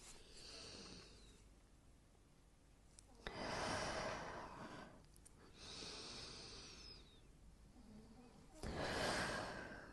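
Slow deep breathing during a core and thoracic-spine workout, with three long, fairly loud breath sounds spaced a few seconds apart and quieter pauses between them.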